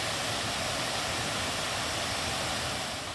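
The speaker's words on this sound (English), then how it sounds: "This is the second waterfall." Steady roar of the second waterfall at Delphi Falls, a continuous broadband rush of falling water, close and unbroken, with no voices.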